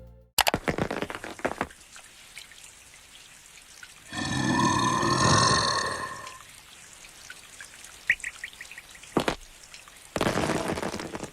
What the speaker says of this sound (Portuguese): o Totoro fica completamente fascinado com o som da chuva batendo no guarda-chuva.